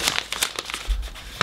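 A resealable snack bag of salted chocolate pretzels crinkles in the hand, giving a quick run of sharp, close rustles and crackles with one louder crunch near the end.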